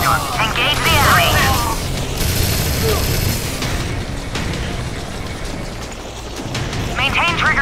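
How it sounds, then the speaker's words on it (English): Machine gun fire in the mobile shooter Modern Combat 4, a dense rattle of rapid shots with impacts and explosions, under spoken voices from the game. "Use the machine gun. Engage the enemy."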